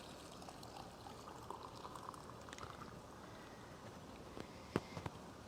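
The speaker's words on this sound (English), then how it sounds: "I add my water. I have hot water from my kettle." Hot water from a kettle pours onto pine needles in a vessel, a soft, faint, steady trickle and splash that ends with a couple of small clinks.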